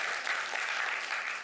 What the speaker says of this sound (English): Applause for yourself, you're here.